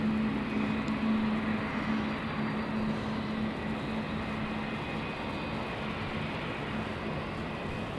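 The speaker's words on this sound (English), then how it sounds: "looks like our next one out is going to be Velocity 697 to Perth, taking off on 27" A Velocity airliner bound for Perth taking off from runway 27 at Melbourne Airport at night, a steady broadband jet roar that holds loud and even throughout, with no voices.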